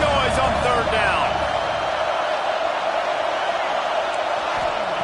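A football stadium crowd roars steadily and loudly on a third down, a dense wall of cheering and noise that holds for the whole stretch.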